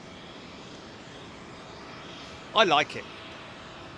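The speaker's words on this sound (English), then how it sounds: "So here's the bamboo jet, folks." A jet airliner departs overhead from London Heathrow runway 09R, a broad steady engine roar filling the background while someone speaks briefly near the end.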